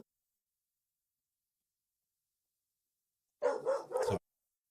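Dogs bark once in a short, sharp burst of a few quick yaps after long silence.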